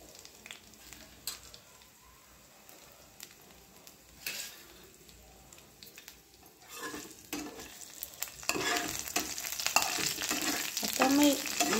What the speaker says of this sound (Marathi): थोडासा लसूण लाल झाला की आपण त्याच्यात हिरवी मिरची टाकणार।